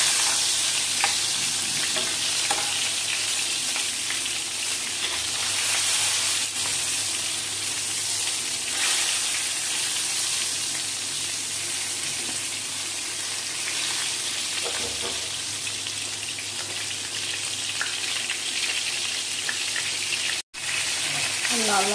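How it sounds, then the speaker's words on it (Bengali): Brinjal pieces fry in hot oil for hing brinjal, a steady, loud hiss of sizzling running unbroken close by, with faint stirring scrapes and a brief dropout near the end. "তেলটা গরম হয়ে গেছে, বেগুনগুলো আমি দিয়ে দিচ্ছি। বেগুনগুলো একটু লাল লাল করে ভাজবো।"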